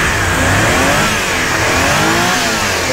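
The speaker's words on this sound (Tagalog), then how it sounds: "So check natin yung power ng ating makina." A Suzuki Every wagon engine revs loudly and steadily up close, the motor's mid-pitched roar holding strong without pause and with no voices over it.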